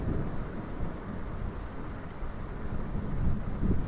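Thunder in a storm picked up through a microphone during an online storytelling gathering, a low continuous distant rumble with wind-like buffeting that swells slightly toward the end, without speech.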